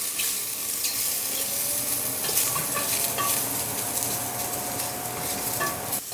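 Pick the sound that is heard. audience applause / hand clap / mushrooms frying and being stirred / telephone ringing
mushrooms frying and being stirred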